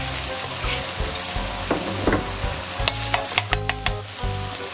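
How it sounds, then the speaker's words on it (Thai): A vegetarian holy basil stir-fry tossed in a hot pan, loud close sizzling with repeated metal spatula scrapes and clanks that quicken into a rhythmic series of knocks toward the end. "ผัดพอหอมนะ"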